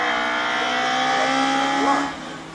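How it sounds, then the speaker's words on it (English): Four-wheel drive rally car at the Shelsley hill climb, engine note held steady and rising before a quick drop as it pulls away, fairly loud and close with no voices. "four-wheel drive rally cars"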